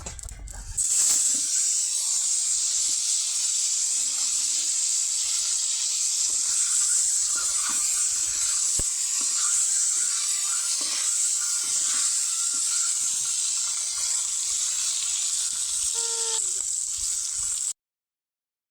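Duck eggs and potatoes fry in hot oil in a village kitchen, giving a steady, loud sizzling hiss that runs nearly unbroken for about seventeen seconds before stopping abruptly.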